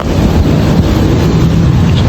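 Strong, steady wind buffeting the microphone in Rashidiya, Dubai, a loud low roar that fills the whole clip without letup.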